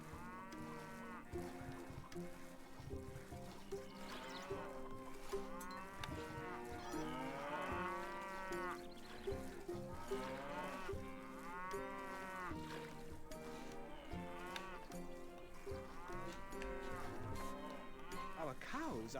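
Cattle in the video game Stronghold HD, repeated loud drawn-out moos from several animals layered over a continuous game soundtrack with a faint cowbell.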